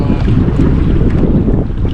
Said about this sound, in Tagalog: Medyo malakas yung hangin